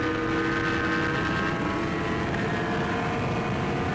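A 2020 KTM 300xc TPI two-stroke dirt bike runs at full throttle, its engine a loud, steady, buzzing roar heard close for several seconds without talk.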